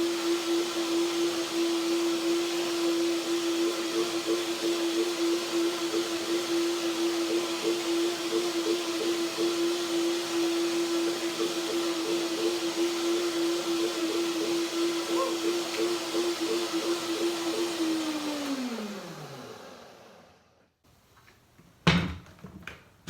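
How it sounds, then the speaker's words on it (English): A blender runs continuously, whirring cashews and dill stems into a creamy dressing for cucumber salad, a steady motor drone that winds down near the end, followed by a few clunks as the jar is handled. "So now I blend the stems to get also the cashews to do the second blending to get it really creamy."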